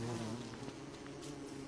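Bees buzzing in the survival video game Don't Starve, a faint steady droning hum that continues low and unbroken under quiet ambient game sound.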